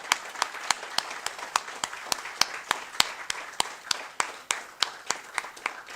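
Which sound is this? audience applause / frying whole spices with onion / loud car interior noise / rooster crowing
audience applause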